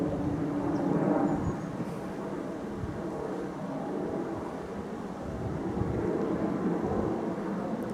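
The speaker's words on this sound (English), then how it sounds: "Ah, there's the plane there." A plane passing overhead near the Stockton and Darlington railway line, a distant, low continuous rumble that swells slightly and fades, heard outdoors with no talking.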